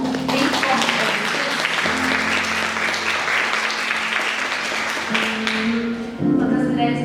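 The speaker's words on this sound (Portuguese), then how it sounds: "Vamos aplaudir o nome do Senhor?" Loud, sustained applause fills a church service, dense clapping from the congregation that runs for several seconds. A low sustained tone, like an organ or keyboard, plays underneath and shifts pitch.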